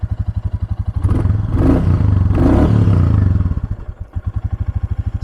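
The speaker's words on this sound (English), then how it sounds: "I'll give it a couple revs for you." A Royal Enfield Classic 350 motorcycle, started cold on a chilly day, idles with a steady thump, then gets two quick throttle blips that swell and fall back to the loping idle, close and loud.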